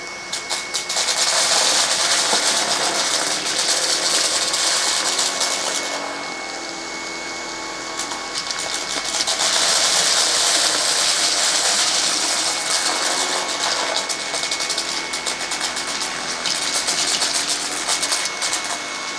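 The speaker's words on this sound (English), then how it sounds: "next up we have the other Eureka vacuum" A Eureka cordless vacuum cleaner runs steadily with a loud, hissing whine that dips briefly midway, then surges back up and holds to the end.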